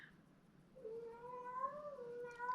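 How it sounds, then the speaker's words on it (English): Pet cats meow in the background, giving a drawn-out, wavering meow that rises and falls, followed by a brief higher cry at the end, with no talking. "you can hear my cats being loud in the background"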